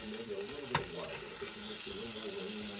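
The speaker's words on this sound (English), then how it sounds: "Just give it a stir and incorporate all of it together." Potato and chicken succotash sizzles steadily and quietly in a hot cast iron pan while being stirred, with one brief utensil knock against the pan.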